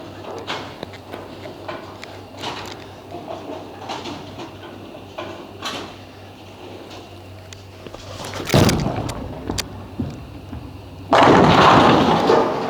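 A Storm Phaze AI bowling ball drilled with an angular layout rolls down a lane toward the pins. A low, steady background gives way to a heavy thud, then a loud, crashing burst near the end.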